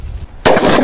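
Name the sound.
Lakshmi bomb firecracker exploding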